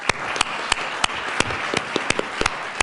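Applause in the Colorado House of Representatives chamber, a thin patter of claps with several sharp, distinct individual claps standing out at irregular intervals, fairly close and steady throughout.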